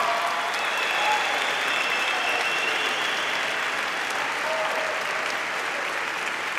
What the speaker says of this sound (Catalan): Un fort aplaudiment per aquests 54 graduats en Criminologia i Polítiques Públiques de Prevenció.